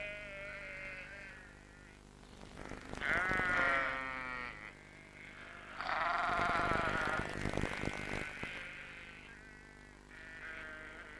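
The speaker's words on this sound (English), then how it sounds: "The sheep were glad to see them." Sheep bleat in a few loud, wavering calls, two long bleats standing out clearly, with quieter bleating at the start and end over a low background rumble.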